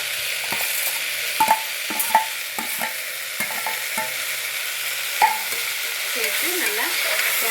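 Beans, carrots and potatoes sauté in hot oil in a pan for a millet vegetable biryani, with a steady sizzle under repeated spoon scrapes and clanks against the metal, fairly close and continuous.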